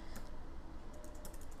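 Rapid keystrokes on a computer keyboard, close and continuous, with a few sharper clicks near the end and no voice.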